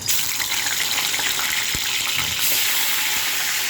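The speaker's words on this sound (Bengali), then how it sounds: "এইদিকে মাছগুলো দিয়ে দিচ্ছি ভাজার জন্য" Fish pieces fry in hot mustard oil, producing a loud, continuous crackling sizzle that stays dense and steady from start to finish.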